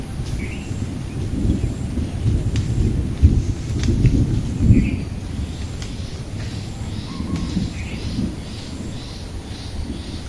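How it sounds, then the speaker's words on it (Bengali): Low thunder rumbles through the air after heavy rain in a village, a deep, rolling growl that swells and fades, with a crow cawing faintly in the distance. "মেঘের গর্জন শোনা যায়"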